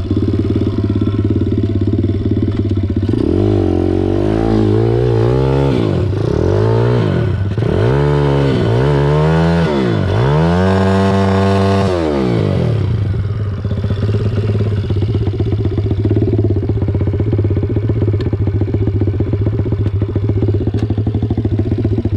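A pit bike engine in a forest revs repeatedly in rising and falling surges, loud and close, then drops back to a steady rough idle that runs on for the remaining seconds.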